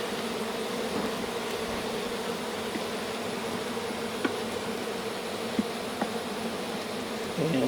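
Honey bees buzz in a dense, steady drone around an open hive during honey harvesting, close and continuous with a few faint clicks and knocks over the swarm.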